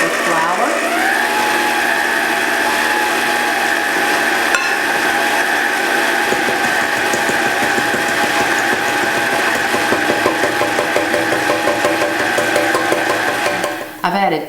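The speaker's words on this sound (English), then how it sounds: "So I'm going to turn the mixer on and you'll see me add the flour" An electric stand mixer runs steadily as flour is beaten into creamed butter and sugar for shortbread, a constant motor whir with faint rhythmic clatter, starting up at the beginning and stopping near the end.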